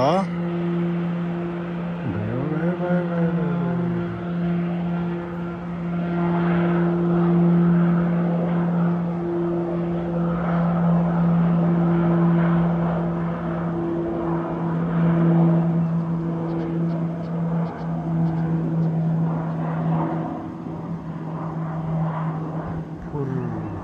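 A plane taking off at Jomsom airport in Mustang sends out a steady, droning engine hum with a strong low tone. It holds fairly loud and constant throughout against open outdoor ambience.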